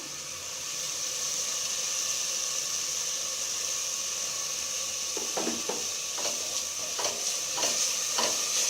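Mint and coriander leaves frying in a pan after cooked-down tomato for egg biryani, a steady sizzling hiss throughout with repeated scraping stir strokes from a spoon in the second half, close and alone.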